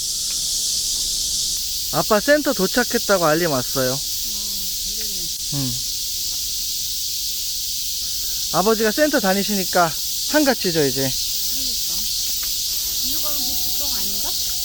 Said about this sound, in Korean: 매미 소리, 어마어마하다.